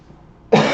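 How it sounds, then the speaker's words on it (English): A single sharp, close cough bursts out suddenly after near silence from a man streaming live who has been ill with a bad fever. "Sorry for the cough, I shouldn't mute."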